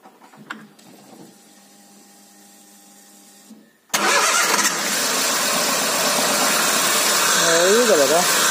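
A Ford Zetec Rocam car engine with a knocking noise at start-up cranks and catches abruptly after a few quiet seconds of faint background, then runs loud and steady close by, with a voice briefly heard.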